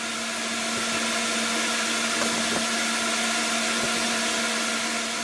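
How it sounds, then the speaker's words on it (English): Steady, loud whirring drone of a jointer cutting pallet wood pieces, continuous throughout with a few brief knocks and no talk. "After running those pieces through the joiner"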